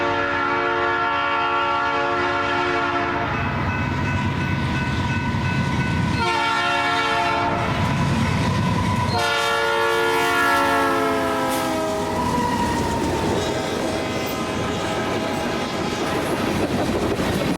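A freight train led by a locomotive carrying a P3 horn passes close by, the horn sounding loud and sustained in long chords with short breaks while the rumble of the rolling cars continues beneath.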